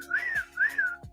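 A person gives two clear, sweeping whistle notes, each rising then falling, to call a trained kestrel back to the glove. The tones are loud and close, with a short gap between them and no talking.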